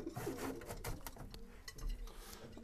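Racing pigeons cooing in a loft after returning home from a competition, soft repeated throaty calls close by, with faint shuffling and rasping noises around them.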